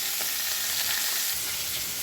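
Snakehead fish fry in hot oil with a steady close sizzle and crackle, continuous and loud with no voices.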